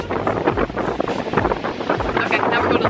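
Strong wind at a Miami beach roars and buffets the microphone without letup, loud and close, with faint surf mixed underneath and no clear speech.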